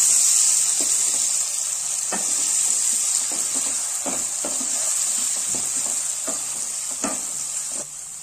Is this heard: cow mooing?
no